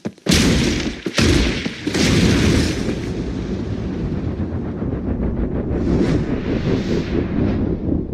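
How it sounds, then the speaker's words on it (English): A cartoonish explosion in a Mario video game as a character blows himself up: several loud sharp booms in quick succession, then a long rumbling, crackling tail that slowly fades. "the thing that the box contains turns out to be a fuse, which Bobby will use to blow himself up to destroy the boulder"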